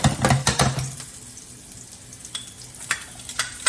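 Sliced shallots hit hot olive oil in a pan and sizzle, with a few clattering knocks and stirring sounds up front, then a quieter steady crackle and occasional sharp ticks.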